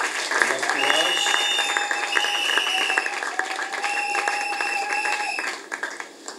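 Audience applause at a church gathering of pastors: steady, dense clapping runs throughout, with sustained musical tones or voices layered over it, and it tapers off near the end.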